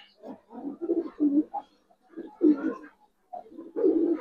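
Giribaz silver pigeons coo close by in soft, throaty, repeated phrases with brief pauses between calls.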